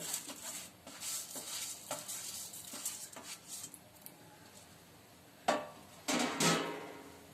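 A spoon stirs vermicelli roasting in a pan for savige payasa, making repeated close scraping strokes over a soft sizzle, with a few sharper clanks of the spoon against the pan toward the end.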